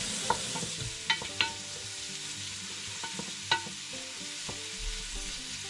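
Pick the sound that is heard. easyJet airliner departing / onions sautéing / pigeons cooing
onions sautéing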